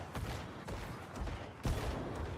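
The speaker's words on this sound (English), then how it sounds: "what are all of these various explosions and stun effects and massive procs that are happening again and again and again?" Rapid bursts of video game explosion and impact effects from item-based lucky hit procs going off again and again in an action RPG, a dense rumbling barrage of low booms at moderate level.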